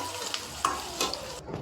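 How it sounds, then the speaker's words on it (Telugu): Chopped onion and green chillies with turmeric fry in a pan, a soft, quiet sizzle punctuated by a few light scrapes and taps of a spoon. "ఆ తర్వాత కట్ చేసి పెట్టుకున్న ఆనియన్, పచ్చిమిర్చి వేసి కొంచెం ఫ్రై చేసుకోవాలి"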